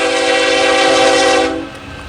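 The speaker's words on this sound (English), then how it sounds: "Here comes the CM locomotive coming down Tehachapi again." A CN locomotive heading downgrade on Tehachapi sounds a loud, sustained multi-tone horn close by, which cuts off abruptly and leaves a low rumble of the passing train.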